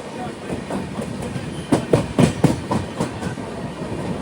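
A Garib Rath Express train pulls into Kollam Junction, its wheels giving a steady clickety-clack rhythm over the rails at close range, with no talk.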